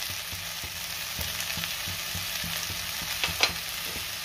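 Okra and potato fried with salt in a pan, a constant close sizzle with a few soft stirring scrapes and one brief clink near the end.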